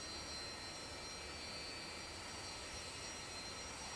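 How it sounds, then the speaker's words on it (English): Saab Sk 60 jet engine running steadily just after a cold start, a constant broad roar with a thin high whine above it, unchanging and heard alone throughout. "the left engine is now fully running"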